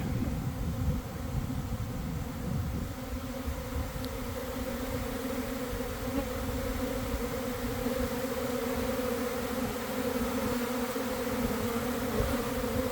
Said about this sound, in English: With all the bees trying to come in to land.